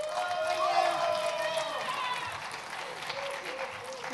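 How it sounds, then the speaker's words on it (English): An audience at a morning talk on musicians' revenue streams breaks into applause and cheers as a speaker is welcomed, a dense wash of clapping that slowly fades, with a few voices mixed in. "Wow, I got a cheering section, that's awesome."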